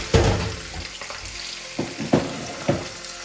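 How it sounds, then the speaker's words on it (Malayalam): Fish frying in a pan, heard as a steady close sizzle with a few louder pops and spatters bursting out at intervals, no voices over it. "അങ്ങനെ രണ്ടാമത്തെ നമ്മുടെ മീൻ വറുത്തോണ്ടിരിക്കുക."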